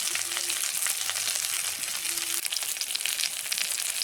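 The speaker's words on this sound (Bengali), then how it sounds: "আমি এবার টকটা রান্না করব সর্ষের তেলেই, সর্ষের তেল দিয়ে দিয়েছি" Mustard oil heats in a pan for cooking a Bengali fish sour, giving a steady, close sizzle and crackle that holds level throughout with no talk over it.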